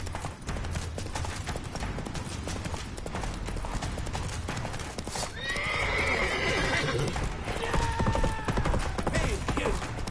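Roach, the horse in The Witcher 3: Wild Hunt, gallops at full pace with rapid close hoofbeats throughout, a loud neigh around the midpoint, and chase sounds growing busier in the second half.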